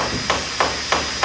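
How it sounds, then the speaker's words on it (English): A sequential gearbox clicks as it shifts into first gear with the engine revved. Four evenly spaced sharp metallic clicks ring out over a steady mechanical drone. "So go ahead and rev it up now to go get it going here, and we'll hear the clicks. So that's first."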